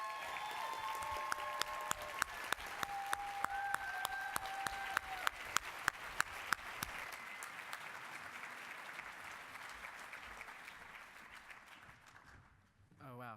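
An audience applauds to welcome a speaker at NSAC 2018, steady clapping from a large crowd with sharp individual claps standing out, swelling and then fading away, while a voice briefly speaks over the start.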